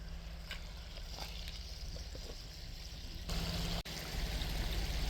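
Indian Creek, a polluted stream off the Guyandotte River, flowing with a constant broadband rush, near and steady, briefly louder toward the end with a short dropout, no voices.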